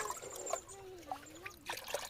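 Water trickles and gurgles steadily into a container being filled outdoors near a water source, a soft close splashing with a rising pitched fill tone, faint and without speech.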